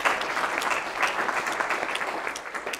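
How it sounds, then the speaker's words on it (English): Steady applause from an audience at a labor union and police accountability public meeting, dense clapping sustained evenly for a few seconds with no talk over it. "give them a round of applause."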